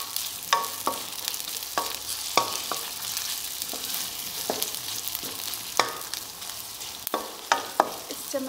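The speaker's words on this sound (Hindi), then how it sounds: "तेल गरम हो चुका है, अब हम इसमें डालेंगे ऑनियन" Onions fry in hot oil for chicken karahi, a steady sizzle broken by repeated sharp clicks and scrapes of a wooden spoon stirring the pan, close and fairly quiet with no talking.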